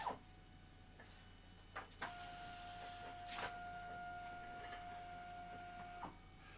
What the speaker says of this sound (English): So the software has completely swallowed and ejected the target.